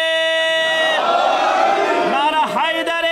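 Mourners at a Shia majlis respond to a call for the Haidar and salawat slogans, raising loud voices together in a swelling shout that rises and falls over a few seconds.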